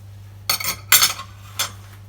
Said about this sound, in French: On va maintenant couvrir notre cocotte